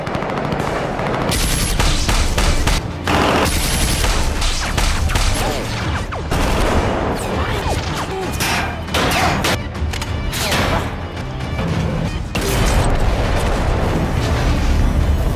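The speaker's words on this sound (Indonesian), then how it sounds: "Baku tembak kembali dimulai." In an action film gunfight, loud gunfire rattles almost without pause, with rapid automatic bursts, single shots and heavy booms layered over a continuous roar.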